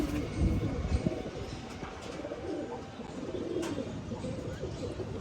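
Several male flying pigeons kept for tournament competition coo quietly in their loft, low throaty calls scattered through steady noise with a few thumps near the start.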